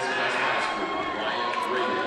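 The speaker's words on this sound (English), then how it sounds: "he incites the crowd to give him a cheer there" Crowd noise fills a high school wrestling championship finals arena, a steady broad roar of cheering that holds at the same level throughout with no break.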